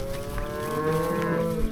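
A ranch cow gives one long, steady moo that sounds close and holds its pitch without a break, with no talking over it.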